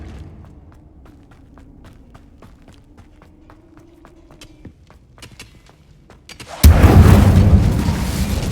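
Incendio fire spell cast in Hogwarts Legacy: after a stretch of quiet footsteps, a sudden loud whooshing roar of flame bursts in and keeps burning steadily to the end.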